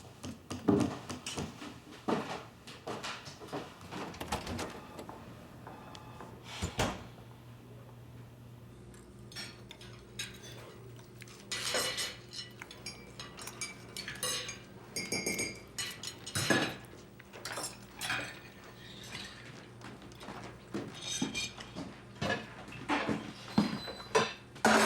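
Dishes being washed at a sink, with cutlery clinking, plates and pots and pans knocking together in an irregular clatter over a long stretch, close and fairly busy, with no talking.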